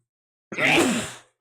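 A single sharp human sneeze, close and fairly loud, bursting out abruptly and fading within under a second, with no talk around it.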